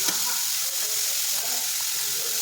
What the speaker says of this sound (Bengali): পেঁয়াজ ফোড়ন দিয়ে, তেজপাতা ফোড়ন দিয়ে আগে মশলাটা ভালো করে ভেজে নিলাম।